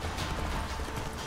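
Hooves of a panicking horse in The Witcher 3 clatter in a dense, continuous rush, loud and close, with a busy mechanical game mix underneath and no talk.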